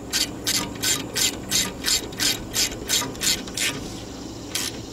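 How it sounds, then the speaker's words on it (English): A hand ratchet tightens a 12 mm brake hose bolt on a 1996 Toyota RAV4, about a dozen crisp rhythmic clicking strokes close up, evenly paced then stopping, with no talk. "get it in there with that 12 millimeter bolt. While we got that, we're gonna go ahead And tighten that up."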